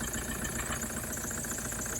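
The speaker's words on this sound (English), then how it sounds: "everybody that watches 4x4 diesel knows that's a cracked piston" A Toyota 1KD-FTV D4D diesel engine with a cracked piston runs steadily up close, a loud continuous clattering drone with rapid rhythmic knocking and no voices.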